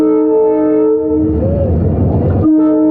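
A train passes close by at a level crossing in Bandra, Mumbai, with a loud sustained horn, then a rumbling, clattering body of rolling wagons, and the horn sounding again at the end.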